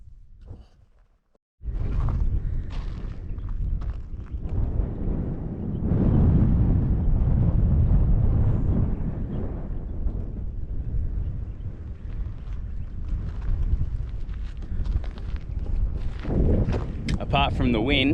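Strong wind roars across the microphone on an outback road, a loud continuous buffeting rush that swells and eases over many seconds, with muffled voices beneath it.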